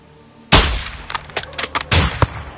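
Sniper rifle shots in the Modern Warfare 2 campaign: one loud, close crack, then a burst of sharp impacts and clatter, and a second heavy report near the end.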